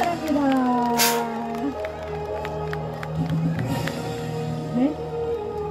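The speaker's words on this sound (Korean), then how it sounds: "박수 보내주시기 바랍니다." A crowd at an outdoor gathering in Hadong applauds and cheers, with steady clapping under raised voices and whoops. An amplified voice talks over the noise at times.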